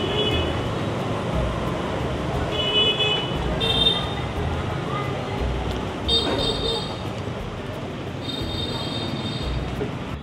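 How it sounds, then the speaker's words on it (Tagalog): Car horns toot in short bursts over steady street traffic rumble in Hanoi, Vietnam, with voices talking nearby. "Nagugulat ako sa mga busina nila."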